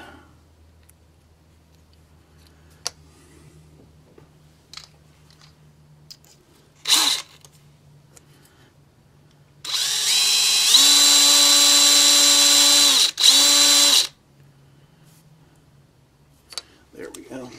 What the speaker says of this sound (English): So back to the drill bit.